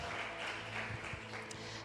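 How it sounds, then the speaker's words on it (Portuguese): A church congregation during a sung sermon applauds in a soft, continuous wash of clapping, heard faint and distant throughout. "Vocês podem aplaudir o Senhor pela vida dela"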